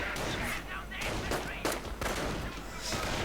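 Video game battle gunfire as Panzer Grenadiers and Riflemen trade shots, a quick, distant-sounding crackle of rifle and machine-gun bursts over a busy, low battle din.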